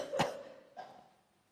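A single sharp cough rings out close by during a quiet yoga session, followed by a softer second cough that trails off.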